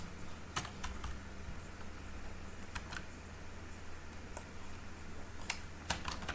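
Code being typed on a computer keyboard, scattered bursts of crisp key clicks with pauses between them, close and fairly quiet.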